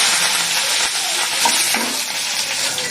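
Cumin seeds, mustard seeds and curry leaves spluttering in hot oil with chopped onion for spinach dal: dense, close frying crackle with a few pops, continuous and fairly loud, no voices.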